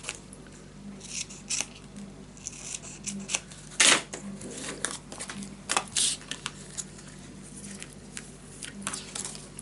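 Scissors snip the corners of paper for a small scrapbook mini album. Close, crisp cuts come in short irregular bursts, with one louder snip partway through and light paper rustling between them.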